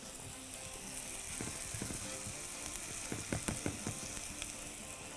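Shredded hash brown potatoes fry in hot oil in a home kitchen, giving a steady close sizzle with scattered crackles and pops that bunch up toward the end, with no one speaking.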